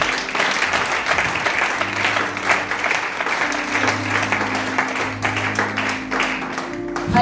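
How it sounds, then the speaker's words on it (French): A church congregation applauds and praises God during a French-language worship service, dense continuous clapping that stays loud and even throughout, with scattered voices mixed in. "Acclame le Seigneur ce matin."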